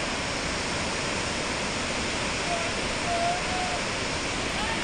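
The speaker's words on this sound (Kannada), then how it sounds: "ಈ ಭರಚುಕ್ಕಿ ಜಲಪಾತದಲ್ಲಿ ನೀರಿನ ಪ್ರಮಾಣ ಸ್ವಲ್ಪ ಕಡಿಮೆ" Steady, dense roar of rushing water from Bharachukki waterfall at Shivanasamudra, filling the whole clip, loud and unbroken with no pauses.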